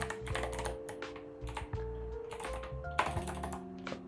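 Fingers type code quickly on a computer keyboard, a dense run of close, crisp key clicks with a steady irregular rhythm and one louder keystroke near the end, over a faint background hum.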